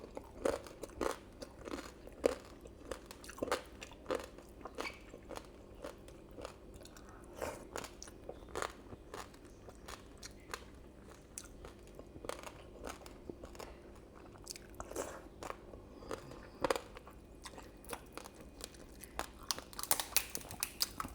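Close, crisp crunching and chewing of air-fried pork belly skin in a mukbang, with repeated sharp bites steady over about twenty seconds and almost no talk.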